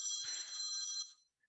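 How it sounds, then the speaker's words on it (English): A mobile phone rings nearby with a bright, shimmering electronic ringtone that holds for about a second and then cuts off, leaving near silence. "Excuse me, that's my phone. It always goes off at the wrong moment."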